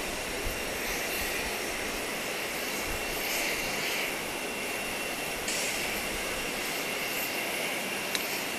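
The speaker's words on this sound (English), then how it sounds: "we're on it's kind of a very nice patio area here at the Owen Roberts International Airport" Aircraft engine roaring steadily at Owen Roberts International Airport on Grand Cayman, a continuous broad jet-like rumble heard from an outdoor patio, loud and unbroken with no voices.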